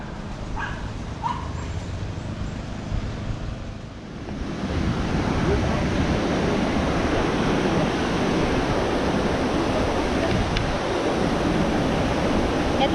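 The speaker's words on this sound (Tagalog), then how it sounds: "Ito yung top ng taas ng Morenci Falls. Tapos ayan, makaflow yung tubig doon sa baba." Montmorency Falls, the waterfall near Old Quebec, roaring as water pours down, a broad steady rush that swells louder after a few seconds and then holds constant, with wind buffeting the microphone.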